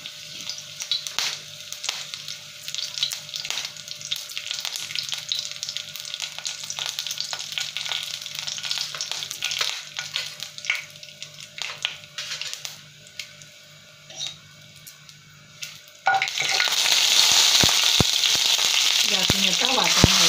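Curry leaves fry in a pan for katachi amti, a Maharashtrian lentil curry, with light sizzling and occasional stirring clicks that turn into a louder, brighter burst of frying near the end.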